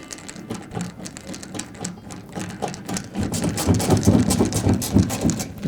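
Power driver running a screw into the front panel of a Whirlpool washer, a buzzing motor whir with rapid rattling clicks that grows louder and denser over the last few seconds, close up.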